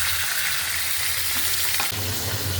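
Fish frying in a pan of hot oil, a steady loud sizzle and crackle close up with no talking.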